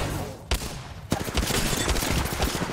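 Gunfire from the battle royale video game Apex Legends, with sharp shots at about half a second and one second followed by dense, continuous rapid fire filling the rest of the moment, loud and close.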